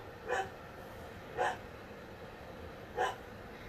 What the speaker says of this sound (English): Dogs are barking again.